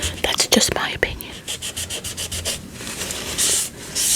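Sticker residue being wiped off a book, a series of close, soft rubbing strokes in a steady back-and-forth rhythm with faint whispering over the top.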